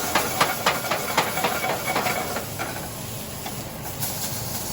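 Garlic and shallots caramelize in a sauté pan with a steady, loud broadband sizzle, broken by small crackles and pops early on, with no talking.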